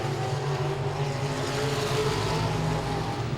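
Modified race cars roar around the oval at Langley Speedway during a close battle for the lead, producing a steady blended engine drone heard from a distance, with no clear single pass standing out.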